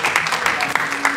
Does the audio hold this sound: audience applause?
yes